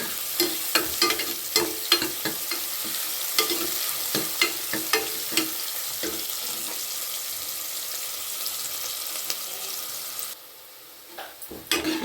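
Onions fry in oil in a pan for mutton kulambu, giving a continuous soft sizzle. Frequent clicking stirs and scrapes run over it until it suddenly drops quieter near the end.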